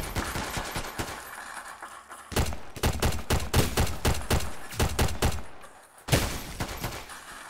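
Rapid bursts of video game gunfire, loud and close, firing in dense volleys with a brief pause near the middle and a sharp gap before a final barrage.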